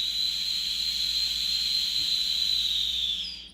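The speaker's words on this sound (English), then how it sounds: "That is a weak-ass whistle." A 1992 Toy Biz Banshee action figure's built-in toy whistle gives one steady, airy, high-pitched hiss-like tone. It holds level for about three seconds, then tapers off, thin and weak, close to the listener.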